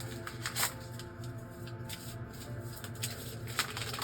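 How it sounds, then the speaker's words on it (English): A tarot card deck being shuffled by hand, a steady run of crisp riffling and flicking card sounds, close and fairly loud, with no talking. "Okay, so next I'm going to shuffle this deck once more"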